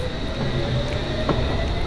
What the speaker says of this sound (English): So we had a Chiltern Railway service passing by,